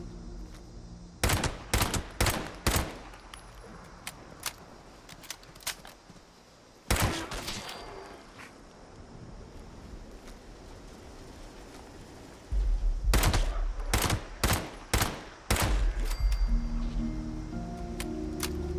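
Bursts of .38-caliber gunfire in Fallout 76, with quick clusters of sharp shots early on, a lone shot near the middle, then another rapid run of shots over a low rumbling bed near the end.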